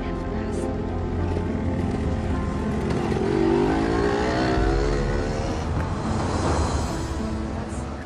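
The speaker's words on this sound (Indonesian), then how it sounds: "suami saya mau parkir mobilnya" A car driven slowly into a parking spot, its engine droning steadily at close range with a brief rise in revs, while people talk over it.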